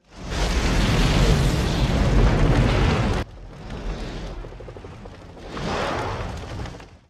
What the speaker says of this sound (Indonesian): tiba-tiba saja mobil yang meledak dengan sangat dahsyat